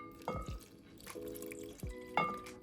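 Water dripping onto a kitchen scale while measuring for sourdough bread, a few quiet, separate plinking drops spaced irregularly over a faint background.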